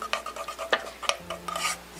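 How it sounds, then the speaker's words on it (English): A spoon scrapes and taps through a thick flour mixture for homemade alfredo sauce, making a rhythmic series of close, short stirring strokes about every third of a second, alone without talk. "we're going to stir that together just like this"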